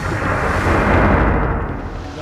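Loud, rolling thunderclap effect for a storm scene in a Bengali jatra folk stage play, a sustained deep rumble that swells and slowly fades, standing alone without voices.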